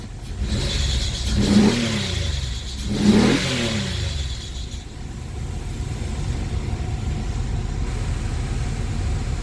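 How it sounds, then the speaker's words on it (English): A 2000 Pontiac Grand Am's swapped 3.4L engine revs up twice in quick succession, each rise and fall clear and close, then settles into a steady idle rumble. "Sounds real good when it revs."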